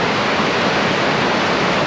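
Whitewater rapids on the Nantahala Cascades at low water, around 250 CFS, a steady loud broadband rush of churning water filling the whole clip with no voices.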